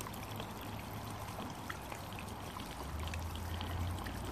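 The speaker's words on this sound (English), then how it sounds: "Let's give these guys a little aquarium water." Aquarium water poured onto potted patio plants, a faint, steady trickling splash that runs continuously for a few seconds and swells slightly toward the end, with no talk.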